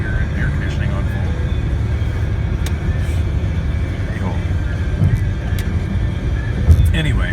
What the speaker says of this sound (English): I'm in a little economy car with a four-banger and air conditioning on full.